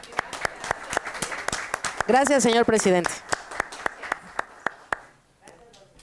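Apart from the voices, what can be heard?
applause in a council session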